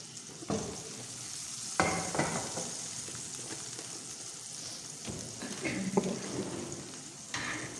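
Bottle gourd and softened tomatoes stir-fried in a pan, with a steady sizzle broken by a few scraping stirs and soft utensil knocks, close by and moderately loud.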